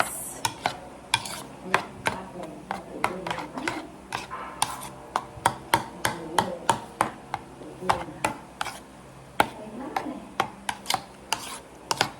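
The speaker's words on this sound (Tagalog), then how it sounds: "Mix, mix, mix." Mango float mixture stirred in a bowl, rhythmic scraping and knocking strokes repeating about twice a second for the whole span, close and fairly loud, with no talking.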